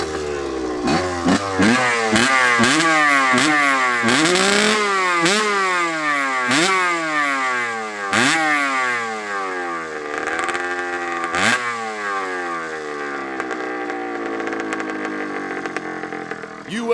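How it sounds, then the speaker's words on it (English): A 1984 Honda CR80R two-stroke motorcycle engine revs hard and close, climbing in repeated sharp bursts with fast ringing pitch sweeps, then settles into a steadier high buzzing idle. No one speaks. "Classic Honda CR80 two-stroke. Runs like a bear."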